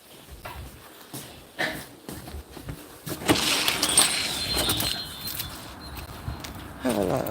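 Keys jangle in short metallic bursts near a car outdoors in the cold, mixed with rustling and handling noises and a few brief words from a man.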